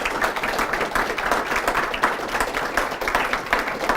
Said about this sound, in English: let's all give her a round of applause for all of that